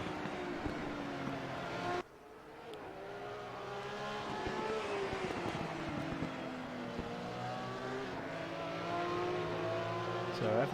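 Porsche Cup race cars circle Mid-Ohio on warm-up laps, their engines droning continuously with rising and falling pitch as they pass close by, a loud, steady racing roar that briefly dips early on.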